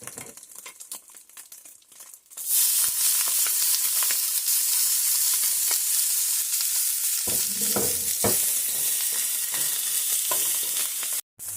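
Vegetables hitting a hot pan for egg fried rice: a few clinks and light tapping, then a loud, dense sizzle that bursts in and holds steady with stirring scrapes.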